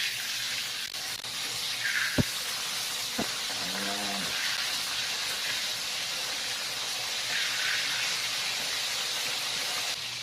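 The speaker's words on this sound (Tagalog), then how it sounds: "magprito ng isda guys" Fish frying in a pan of hot oil, a steady broadband hiss and crackle of sizzling that holds evenly throughout, with a couple of brief clinks from utensils and a faint voice in the background.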